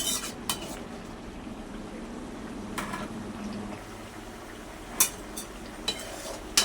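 A spoon stirs garlic tamarind curry in a pot, scraping the metal with scattered sharp clinks over a low bubbling simmer, close and fairly quiet.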